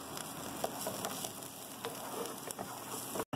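Sweet pepper sautéing in a pan gives a steady, close sizzle with fine crackling pops throughout, and a few light ticks rise above the continuous frying hiss.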